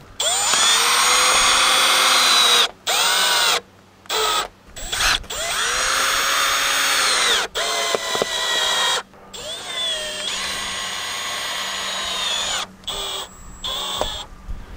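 A power drill drives screws into roof plywood, whining loudly in repeated bursts of several seconds each with short pauses between, the pitch dipping as each screw bites, close by.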